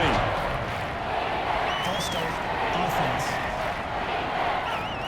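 A dense, steady roar of a large stadium crowd in the American football video game Madden NFL 21 fills the whole stretch, loud and continuous with no distinct cheers standing out.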